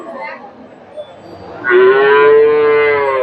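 A single long, loud moo from a heifer calf at a cattle market in Gabtali, Bogura, rising out of quiet background noise and holding for over a second.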